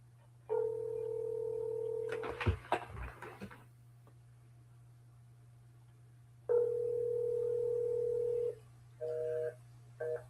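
An outgoing phone call's ringback tone plays two long steady rings several seconds apart, then short beeps, with some handling clatter between the rings and a low constant hum underneath.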